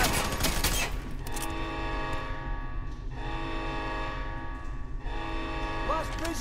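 Bursts of rapid gunfire from a firefight in the video game Fear 3 crackle loudly at the start, then give way to a sustained tonal drone and mechanical rumble.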